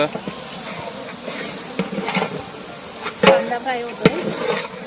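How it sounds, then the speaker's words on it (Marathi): Chopped onion frying in hot oil in a village kitchen, a steady close crackling sizzle with a few louder spatters and pops, mixed with faint background voices. "आता मस्त आपला कांदा फ्राय होतोय"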